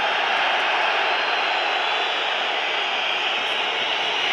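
A dense, steady roar of a packed football stadium crowd in Dortmund booing and jeering Bayern Munich winger Franck Ribéry, a continuous broad wash of massed voices with no break or individual words standing out.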